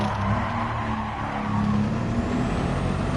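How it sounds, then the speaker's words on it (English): A twin-turbo Mercedes-AMG engine in a car in the racing game Gran Turismo 7, a loud continuous engine roar held at high revs throughout with no pauses. "Mercedes-Benz engine and AMG engine in it. So it sounds like an ACC."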